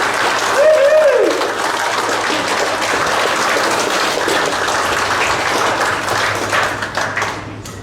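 Wedding guests applaud the newlyweds with loud, dense, sustained clapping, and a cheer or whoop rises early amid the crowd noise.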